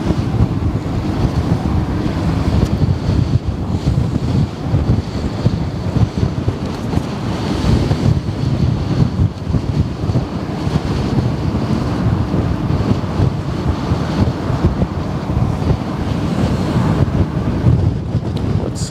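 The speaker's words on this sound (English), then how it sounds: "A bit more shelter from the wind now." Strong wind roars and buffets the microphone at the Westerschelde waterfront, with ships and tugs nearby; a loud, continuous rumble with gusty surges and possible lapping water, no talking.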